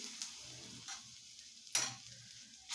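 Ginger-garlic paste hits hot oil with bloomed cumin seeds for a bottle gourd sabji, giving a soft, steady sizzle with a few sharper crackling bursts, faint and close.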